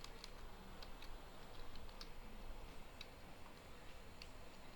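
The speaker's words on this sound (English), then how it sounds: "type in a password." Faint, quick keystrokes on a computer keyboard while a password is entered, irregular soft ticks spread over a steady hiss, with no talking.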